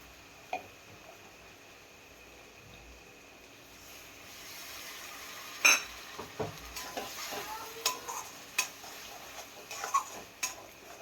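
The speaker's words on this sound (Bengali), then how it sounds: "এইভাবে আরও দু দু তিন দিন নাড়াচাড়া করে নিতে হবে পোস্ত তাহলে ভালো করে ফ্রাই হয়ে যাবে" Poppy seed paste masala is stirred in a pan with onions, a soft faint sizzle broken by scraping and light metallic clinks of the spatula that grow busier in the second half.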